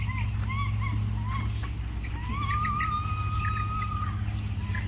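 Chickens and chicks on a farm, with several high chirps and peeps over a constant low mechanical hum, moderately faint and unaccompanied by talk.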